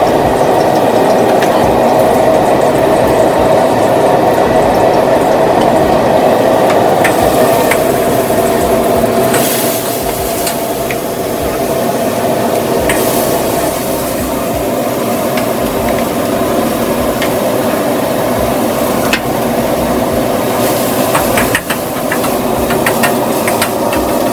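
Steady engine drone and road rumble from a motorbike being ridden in toward a Thai restaurant in Colorado, continuous and loud throughout with faint hiss and no talking.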